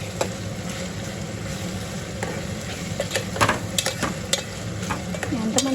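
Eggplant sizzles steadily in a pan with a pinch of turmeric, a continuous dense hiss broken by sharp scraping and clicking as it is stirred, loudest toward the end.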